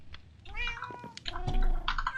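A cat meows in the video game Minecraft, several short meows in a quick run with faint key tapping underneath.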